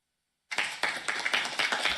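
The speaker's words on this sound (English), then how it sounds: "Not exactly boisterous applause as the orange leader was introduced" Applause breaks out suddenly after silence as Donald Trump is introduced at an event, a modest, thin crowd clapping in loose, rippling bursts.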